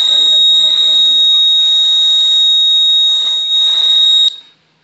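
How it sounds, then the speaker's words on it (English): A steady, high electronic tone from a microcontroller-driven buzzer in a GSM-based power grid control system sounds continuously for about four seconds, then cuts off abruptly, with faint murmuring underneath. "The buzzer sound will come here."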